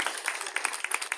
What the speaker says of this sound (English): Clap for cohort three